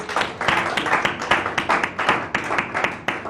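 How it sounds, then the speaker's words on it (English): Close, rhythmic clapping from an audience at an internet registrar awards ceremony, sharp repeated handclaps standing out over a thinner spread of applause for about three seconds. "Round of applause."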